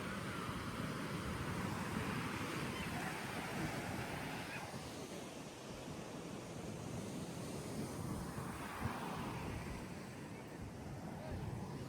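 Surf rolling and crashing onto a sandy beach, a steady broad roar with swelling surges and wind buffeting the microphone, continuous and fairly close.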